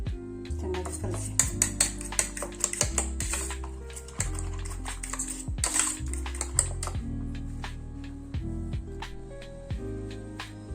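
Omelette batter with onion, green chilli and coriander being mixed in a bowl, a rapid run of clicking, tapping utensil strokes against the dish with a low hum underneath.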